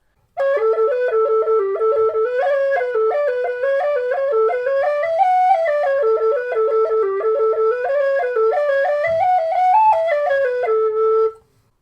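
A Carbony Highland whistle with bagpipe fingering plays a lively melody solo, clear and close, with quick G-to-E grace-note flicks ornamenting the tune throughout.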